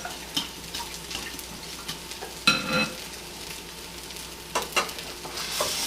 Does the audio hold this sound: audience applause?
no